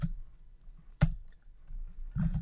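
Sparse clicks of computer keyboard typing while entering Python code, with a sharper key press near the middle and a few soft taps after it, close and quiet with no talk.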